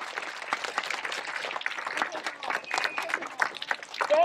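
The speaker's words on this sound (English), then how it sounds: "Let's give a huge round of applause first to our fifth graders" An audience at a school assembly applauds fifth graders, with steady clapping from many hands filling the room throughout, some cheers or voices mixed in.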